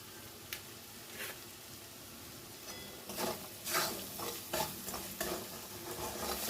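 Spice masala for potato curry, with turmeric and Kashmiri chili, fries in oil while a spoon scrapes and stirs it, sending repeated bursts of scraping and sizzling through a soft continuous frying hiss, with no voices.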